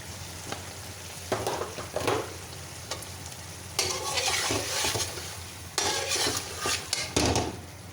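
Spices with black pepper frying in a pan and being stirred: repeated scraping strokes of a spoon against the pan over a steady sizzle, close and clear, with longer stirring bursts in the middle and near the end.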